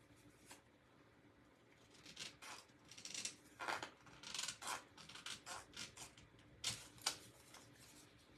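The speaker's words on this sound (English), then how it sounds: "Let me cut just a little bit more off." Scissors trimming a little more off a piece of a journal cover made from a small charm box, giving a series of quiet, close snips and crisp cuts at an uneven pace after a short near-silent start.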